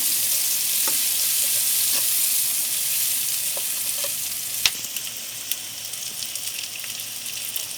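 Onion sizzling as it fries in garlic oil in a wok, a steady loud hiss with a few clinks and stirring scrapes toward the end, no talking.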